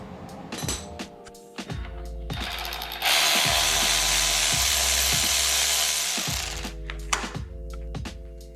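A hand ratchet loosens a bolt on a K-series engine during a budget K swap, giving close, loud repeated clicking bursts broken by a steady whirring stretch in the middle, with no talking.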